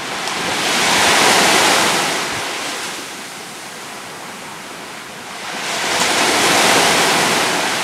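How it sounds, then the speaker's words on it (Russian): Sea waves washing onto a shore at Ko Surin in Thailand, loud and close, two broad surges of rushing surf swelling and receding with a softer lull between them, no voices. "Прям плещется море под ногами."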